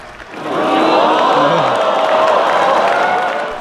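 A large crowd gathered in a press center cheers and applauds as two leaders cross a border line. The roar swells quickly after a quiet start, holds loud and full with mixed whoops and clapping, then eases slightly.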